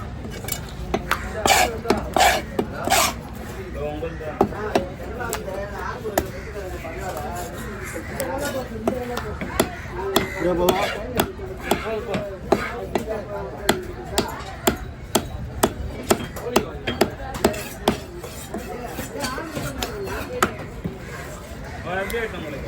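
Fish being hacked apart with a heavy cutter knife at the busy Kasimedu fish market: sharp, irregular chopping thuds repeat through the whole stretch, with market chatter and voices talking underneath.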